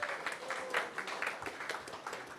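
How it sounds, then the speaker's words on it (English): Audience applause at a VIP celebration event for the sold-out Balfour Place apartments in Lindfield, a steady crowd of clapping hands sustained throughout at moderate loudness, with faint voices mixed in. "So give yourselves a round of applause."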